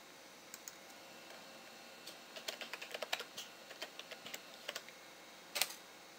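Someone types a username and password on a computer keyboard, giving a quiet, irregular run of light key clicks in short bursts, with a sharper tap near the end.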